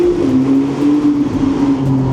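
A Pagani supercar's engine pulls hard under acceleration, a loud, smooth, rising drone heard from inside the cabin, steady and linear without breaks.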